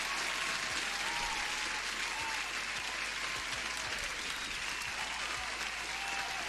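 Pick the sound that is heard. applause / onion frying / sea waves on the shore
applause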